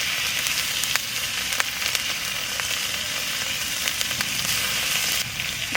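Cumin, ginger and garlic pastes fry together in a pan for a soya chunk kofta curry, making a loud, close, continuous sizzle with sharp spattering crackles throughout.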